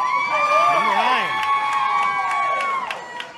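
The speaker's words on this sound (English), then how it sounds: "Like we said, the crowd firmly behind Kevin Ryan." A wrestling crowd at the JC Arena cheers and shouts for Kevin Ryan during an unsanctioned match, a dense, steady roar with whoops and voices rising above it, while commentary talk runs throughout.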